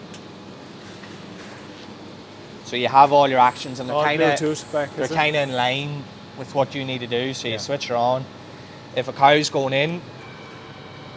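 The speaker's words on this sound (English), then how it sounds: "the noise you can hear is a hydraulic pump" A hydraulic pump runs on a cattle handling crush on a farm in Monaghan, a steady mechanical hum held beneath someone talking close by.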